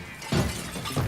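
Glass pane shattering in the puzzle game Quantum Conundrum: two loud, sharp breaking bursts about half a second apart, each with a crackling tail and no voices.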